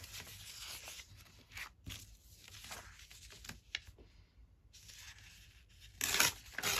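Paper torn by hand, a page from an antique book, heard as soft, close ripping and rubbing strokes in several short bursts, with a louder scratchy tear at the end.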